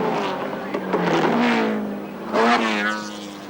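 Group C race cars roar into a braking zone at a corner during the 1980 Surfers Paradise 300, engines revving and downshifting loudly beneath continuous commentary.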